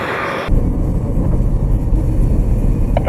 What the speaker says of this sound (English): As the U-2 slows, the pilot can carefully tip the wings to the ground and bring the aircraft to a stop.